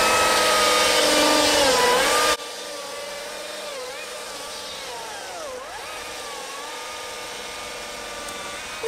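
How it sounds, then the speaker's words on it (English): A small battery chainsaw cuts into a tree, its high electric whine loud and steady at first, then dropping and wavering in pitch as the blade bites through the wood. "I'm going to take this one right here for right now with a little battery saw."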